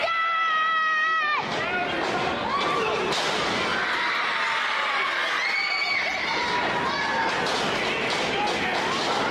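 A pro wrestling arena crowd roars and cheers for the Cabana Man, a dense sustained wall of voices with rising shouts and whistles, loud and continuous throughout.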